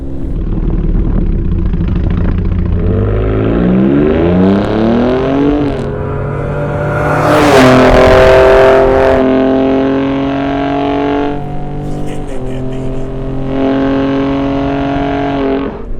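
A Hennessey VelociRaptor Stage 2 V6 pickup truck drives with a steady engine rumble, its pitch rising and falling through gear changes and swelling briefly louder mid-way. No voices are heard.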